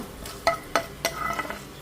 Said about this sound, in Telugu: వేగుతుంది పోపు